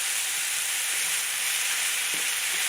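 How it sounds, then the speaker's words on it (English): Onions and mushrooms sauté in a pan, giving a loud, continuous sizzle that stays even from start to finish. A few faint stirring scrapes sit underneath, and no one speaks. "let me start sauteing this"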